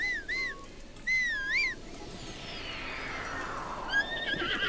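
A horse in the video game Breath of the Wild whinnies in clear, rising and falling calls, three bursts spread across a few seconds over steady outdoor game ambience.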